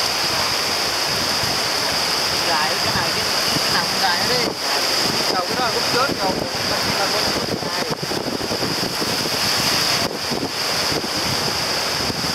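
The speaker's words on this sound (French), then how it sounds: "Là, tu démarres le moteur." A boat motor runs on open water in Vietnam under heavy wind buffeting and splashing waves, a steady rough drone beneath the noise with brief dropouts.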